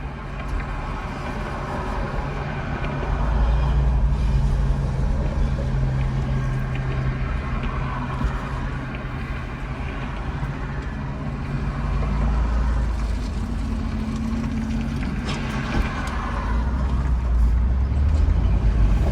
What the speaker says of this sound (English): we're gonna wait for this traffic to pass by